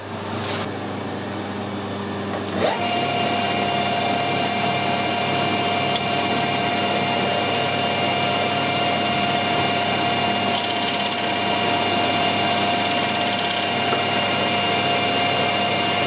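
A metal lathe cutting a taper with the compound slide on a tractor heater plug, a steady machine whine and hum that steps up after a brief click near the start and then runs evenly.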